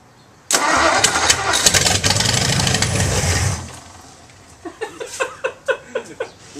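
A 1956 312 cubic-inch Ford Y-block V8, choked for a cold start, fires and roars loudly for about three seconds, then drops away into a series of rhythmic sputtering bursts and pops, with faint voices nearby.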